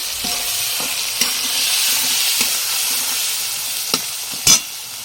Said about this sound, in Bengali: সবাই হলুদটা দিয়ে দিলাম একটু নাড়িয়ে দেব